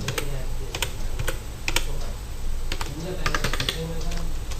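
Computer keyboard typing an invoice number into accounting software, rapid irregular bursts of close clicky keystrokes with short pauses between groups.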